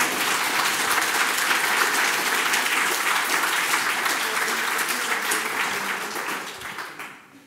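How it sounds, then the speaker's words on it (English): An audience at a scientific symposium gives a round of applause for a guest, sustained dense clapping for about seven seconds that fades out at the end. "So a round of applause for Richard."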